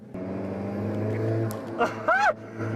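A turbocharged car accelerates on the Vancouver Island Motorsport Circuit in dynamic mode. The engine drone is heard from inside the cabin, steady and close, with a brief excited voice rising near the end.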